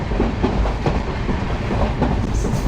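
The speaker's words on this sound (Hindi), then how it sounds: "अच्छी रफ्तार के साथ आगे बढ़ती हुई हमारी अमृतसर बीकानेर एक्सप्रेस।" The Amritsar–Bikaner Superfast Express running at speed through Rajasthan, a loud, steady rolling rumble with a continuous clickety-clack of wheels over rail joints.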